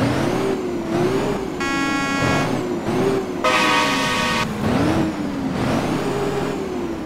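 A Mack Anthem truck engine in American Truck Simulator drones steadily, its pitch rising and falling as it revs, with two loud blasts of a deep multi-tone horn.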